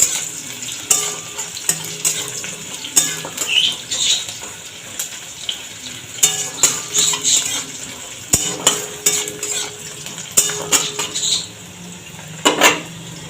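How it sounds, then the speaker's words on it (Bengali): Chopped onion frying in a pan for egg curry while being stirred, with a soft sizzle beneath repeated metallic clinks and scrapes of a spatula against the pan, moderately close and with no talking. "এবার পেঁয়াজটা একটু ভাজা হতে থাকে।"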